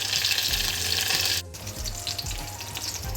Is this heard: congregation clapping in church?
no